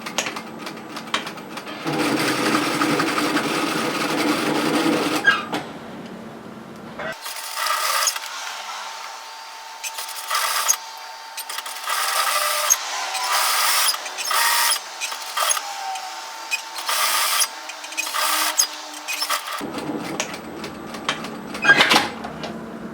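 A sewing machine stitches a hoodie side seam in bursts: an opening run, then short repeated stitching spurts separated by brief pauses, with a steady whirring rhythm and a final run at the end.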